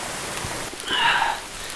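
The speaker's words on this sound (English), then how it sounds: "the rain just started to really come down" Heavy rain pours down outside a mountain stream cave, a steady hissing wash that swells louder for a moment near the middle.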